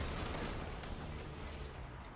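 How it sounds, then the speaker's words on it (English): Heavy, continuous gunfire from an orbital drop in the video game inFAMOUS Second Son, a dense unbroken roar of shots and blasts that stays loud for the whole stretch. "Wow, that is a lot of gunfire."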